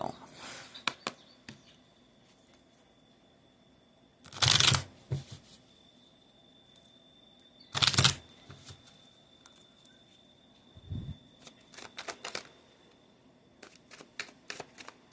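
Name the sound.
tarot cards being shuffled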